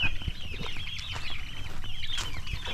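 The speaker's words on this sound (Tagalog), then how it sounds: "nandito tayo sa mga sisiw ng pabo" Turkey chicks in a backyard pen give repeated high, thin peeping calls that rise and fall in quick succession, close by over a low rumble of farm background noise.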